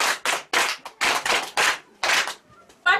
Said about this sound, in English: Clap for her.